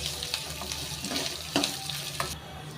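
Onions, green chillies and curry leaves frying in a pan for avalakki upma, a soft steady sizzle with occasional stirring clicks and scrapes, close and fairly quiet, no talking.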